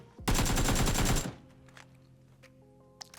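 A rapid burst of automatic gunfire in the video game PUBG lasting about a second, loud and close, followed by quiet background tones and a couple of faint clicks.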